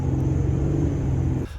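A 3.0L 2007 Ford Ranger truck with a squeaking idler pulley and serpentine belt pulls away from a stop, a steady low engine rumble close by that cuts off near the end.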